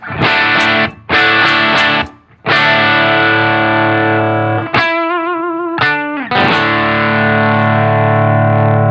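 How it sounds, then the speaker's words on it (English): Electric guitar through an EarthQuaker Devices Special Cranker overdrive pedal on the silicon diode setting, played dry: loud distorted sustained chords with brief stops and a wobbling held note midway. "This is just the special cranker that you're hearing."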